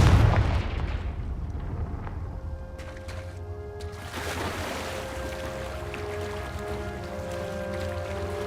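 A Confringo blasting spell in the Hogwarts Legacy video game erupts in a deep, booming burst right at the start, then fades into quiet cave ambience with soft sustained game music.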